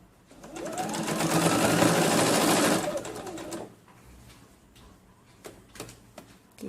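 A sewing machine stitches a shirt collar, its motor whirring in one continuous close run for about three seconds before it stops, leaving faint handling clicks and light rustling.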